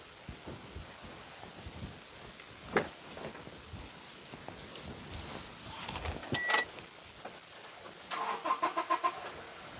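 Diesel Toyota Kijang Innova at a used-car showroom in Palembang, checked at close range: a low engine rumble with scattered clicks and knocks, short bursts around the middle, then a quick rhythmic series of taps near the end.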